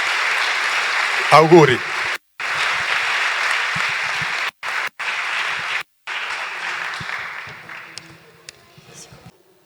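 An audience at a university ceremony gives sustained, dense clapping, broken by a few abrupt cuts. A voice calls out briefly near the start, and the clapping thins out toward the end.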